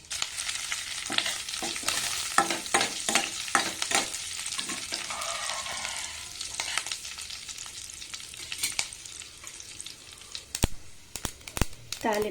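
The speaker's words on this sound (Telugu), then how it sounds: "1 నిమిషం పాటు ఈ తాలింపుని వేగనివ్వండి." A tempering of urad dal, cumin, mustard seeds, dried chilli and curry leaves sizzles steadily in hot oil, with sharp crackles and stirring scrapes breaking through.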